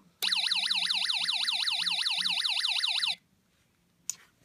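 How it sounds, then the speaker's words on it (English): A shrill siren from a small electronic circuit kit wails in a fast, rapidly rising and falling sweep for about three seconds, then cuts off, followed by a brief click. "I know it's a lot more high-pitched than a regular siren, but it does sound pretty good."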